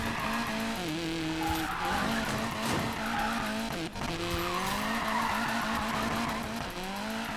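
A Mazda MX-5 Miata in Need for Speed Payback drives hard, its engine note steadily rising and falling through gear changes while tires squeal and skid continuously close by.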